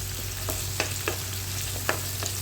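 Onions and curry leaves fry in hot oil in a home kitchen pan, a steady close sizzle broken by a few soft stirring scrapes and crackles.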